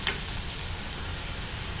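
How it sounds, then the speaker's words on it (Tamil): Chopped onion, peas and grated carrot sizzle in a pan, a steady close crackle and hiss of frying with a faint tick of stirring near the start. "வெங்காயம் நல்லா வதங்கிடுச்சு. பட்டாணி சேர்த்துக்கலாம்."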